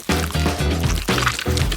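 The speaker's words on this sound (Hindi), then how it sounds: "अब जैम डालेंगे और फिर दूध" Jam and milk pour into a pan for a gummy cake in thick glugging streams, loud and close, in two or three successive pours with wet sloshing.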